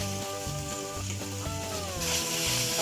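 Pasta seasoned with a teaspoon each of black pepper and oregano sizzles steadily in the pan, a continuous close frying hiss running beneath a melodic background tune throughout.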